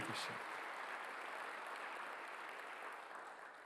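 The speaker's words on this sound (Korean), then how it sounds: "박수로 하나 더 해주세요." A church congregation at a Sunday worship service claps together, a faint, steady wash of applause heard from a distance after a brief louder burst at the start, slowly tapering off.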